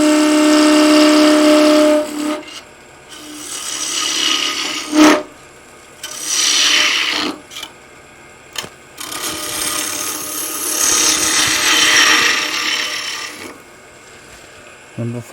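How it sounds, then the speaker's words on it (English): A woodturning lathe makes peeling cuts on a small piece of wood shaped into a gnome nose, giving loud, close, rasping scrapes in several long passes broken by brief pauses. "We'll do a couple of peeling cuts here."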